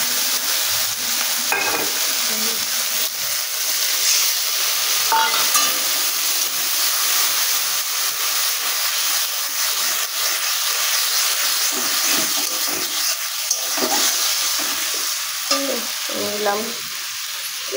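A paste of ground cumin, ginger and onion, added with chili, sizzles in hot oil in a pan for a village-style spicy chicken curry. The frying hiss is loud and steady, with occasional stirring clinks and scrapes and no voices.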